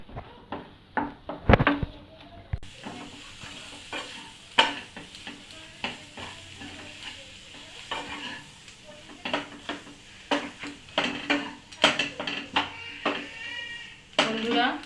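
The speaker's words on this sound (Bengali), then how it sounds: "বেশ খানিকটা ধনেপাতা এবং একটু কসুরি মেথি দিয়ে ভালো করে নেড়ে নেব" A spoon repeatedly scrapes and taps a pan while fish cutlet filling with coriander leaves and kasuri methi is stirred, making a busy, uneven clatter with faint sizzling behind it.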